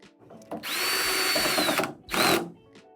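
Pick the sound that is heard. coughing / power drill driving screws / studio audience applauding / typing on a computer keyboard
power drill driving screws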